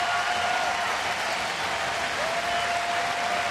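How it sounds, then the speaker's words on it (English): A baseball stadium crowd gives a warm, steady round of applause, a dense wash of clapping from the stands carrying evenly through the short stretch. "Pat on the back from the manager and a nice round of applause"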